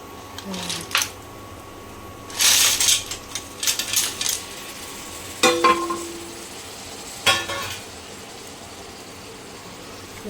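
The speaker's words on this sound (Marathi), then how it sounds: "आता याच्यामध्ये आपण हळूहळू शिंपल्या टाकू." Clams in their shells dropped a few at a time into turmeric masala cooking in a pan, giving sharp shell clatters and clinks in scattered bursts, with a faint sizzle and a voice speaking between them.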